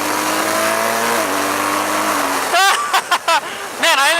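A BMW R1200GS motorcycle engine drones steadily at speed, then revs in sharp rising bursts as the rider works the throttle, loud and close with wind rush throughout.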